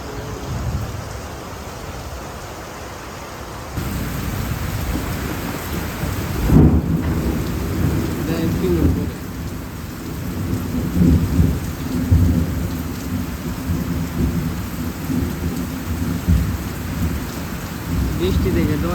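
Heavy rain falls steadily on surfaces, and deep rolls of thunder break in, with one strong crack around the middle. Faint voices can be heard under the storm.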